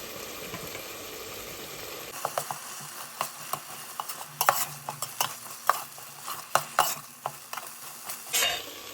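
Ginger paste for mutton pulao is stirred in a pan, a spoon knocking and scraping in a string of sharp strokes over a light sizzle. The strokes are close and clear, with no voices.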